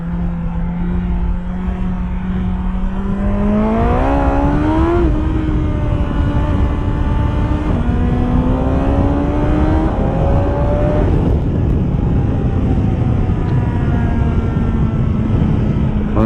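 A BMW S1000XR motorcycle accelerates hard on a road, its engine note climbing through several gear pulls, loud and close the whole time, with no talking over it.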